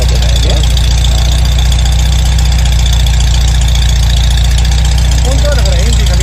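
A Volkswagen Karmann Ghia engine with carburetor and ignition trouble idles loud and steady, a continuous low rhythmic throb running unbroken with a voice faintly audible over it.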